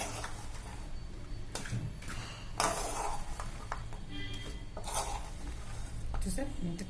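Wheat flour being mixed with jaggery in a bowl for crisp gavvalu dough, with steady scraping and the clatter of a utensil against the vessel, and a few sharper knocks.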